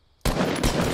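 Gunfire in the Fortnite Battle Royale video game: after a short near-silence, a sudden loud burst of shots that rattles on continuously to the end, with dense, rapid, repeated impacts.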